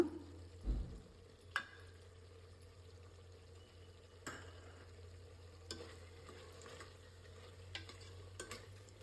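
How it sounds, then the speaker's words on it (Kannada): Spice powder being mixed into chicken in a pan over low heat, quiet faint sizzling with occasional sharp spoon knocks and scrapes against the pan, no voices. "ಸ್ಪೈಸಸ್ದು ಒಂದು ಪೌಡರ್ ಮಾಡಿ ಇಟ್ಕೊಂಡಿದ್ವಲ್ಲ ಅದನ್ನು ಈಗ ಇದಕ್ಕೆ ಹಾಕ್ಕೊಂಡು ಮಿಕ್ಸ್ ಮಾಡ್ಕೊಳ್ಳೋಣ"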